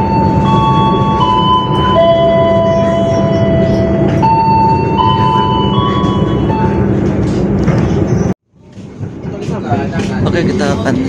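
Argo Parahyangan train pulling into Gambir station, a loud steady rumble of the rolling carriage with tonal whine and squeal lines drifting across, briefly cutting out before the noise swells back, voices audible over it.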